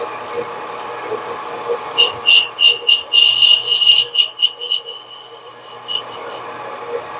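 A Harbor Freight mini lathe takes fine cuts in plastic, giving a series of short, bright rasping bursts with a thin whine over a steady low motor hum, fairly close and mid-level.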